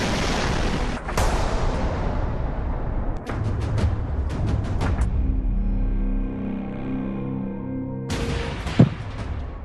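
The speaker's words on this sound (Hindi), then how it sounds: "एक और बहुत बड़ा धमाका हुआ है" Bombardment explosions in Kyiv rumble as loud, sustained deep booms, broken by sharp cracking blasts and a short burst of rapid bangs, with a droning hum in between and no talking.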